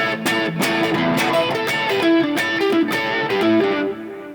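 Distorted electric guitar from a song, opening on a low E and then switching to the rear position pickup; a messy, aggressive run of choppy picked notes, close and unaccompanied.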